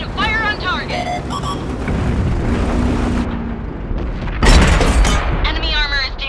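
A tank cannon booms in a desert armored-combat video game, deep heavy blasts over rumbling engine noise, with game voices calling out between shots.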